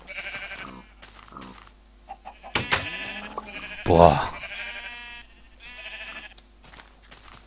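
Sheep in the Minecraft video game bleat in a series of wavering, nasal calls, some overlapping, with a brief exclamation from a player and soft game sounds between them.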